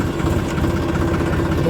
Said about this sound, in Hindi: चलते हैं दोस्तों, करते हैं स्टार्ट ट्रैक्टर।